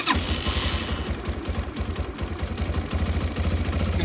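A Bashan CR250 motorcycle engine idles in neutral with no choke, a close, steady, loud low putter with a rapid firing pulse that holds throughout.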